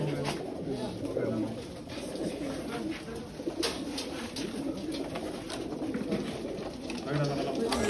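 Racing pigeons coo with soft, low burbling calls during pigeon pooling, a continuous murmur of several birds close by, layered under ambient noise and occasional rustling.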